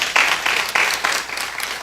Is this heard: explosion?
no